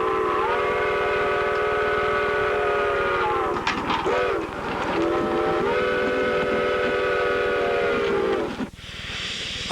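A railroad locomotive running between Chama and Cumbres sounds a long, loud, close steam whistle in sustained blasts with a short break in between, over the low rumble and clatter of the moving train.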